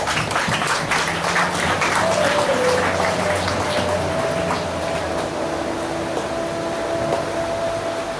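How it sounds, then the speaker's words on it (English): Audience applause at a night of a Hindu Hanuman Maha Yagna, a continuous, hissing wash of many hands clapping, steady and fairly loud, with a faint tone held beneath it. "Give all of them a round of applause."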